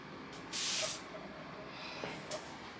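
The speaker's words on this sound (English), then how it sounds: "You need to spray some of this on your breath" A short burst of breath spray hisses once, close and fairly loud, with a fainter second puff near the end, over a quiet room background with no talk.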